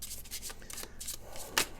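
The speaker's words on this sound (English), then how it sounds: "we're going to go ahead and shuffle these semi-well" A deck of playing cards being shuffled by hand while setting up a tabletop game, a few quick papery riffling and rubbing bursts, close and fairly soft, with a sharper burst near the end and no talk.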